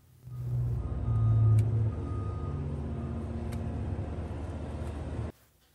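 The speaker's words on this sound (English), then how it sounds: "That whirring noise you hear in the background, that is from a feed truck." A feed truck whirs steadily in the background on a livestock farm, a low continuous mechanical rumble that swells slightly early on, then holds at moderate level before cutting off abruptly.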